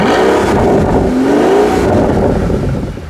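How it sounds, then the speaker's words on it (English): A Pagani Huayra's exhaust rises and falls through a loud, close rev, a sweeping engine note climbing, dipping, then climbing again before easing off. "it would be a crime to film a video about this car and not show off its exhaust"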